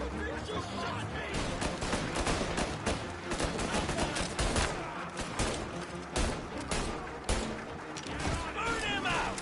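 Dense, continuous gunfire in Mafia Definitive Edition, with rapid overlapping shots and bursts filling the whole stretch while voices shout over the battle.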